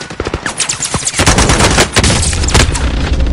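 Automatic gunfire rattles in rapid bursts in Call of Duty Warzone Rebirth, loud and close, with overlapping shots and a dense, sustained volley after the first second.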